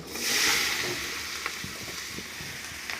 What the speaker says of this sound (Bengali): সব হলুদ লঙ্কাগুলো সব ভেজে ভেজে করে নেবো